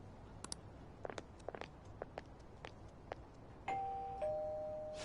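Soft footsteps tap lightly for a few seconds, then a clear two-tone electronic doorbell chimes once, ringing out and fading, in the video game Persona 5 Royal.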